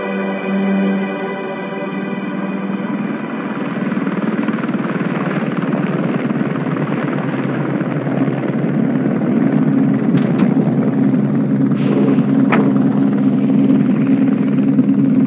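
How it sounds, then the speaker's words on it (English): Loud helicopter rotors in the video game Mr Meat 2 thump and whir steadily up close, building slightly in intensity, with a couple of brief sharp noises cutting in near the end. "Get in the helicopter quickly."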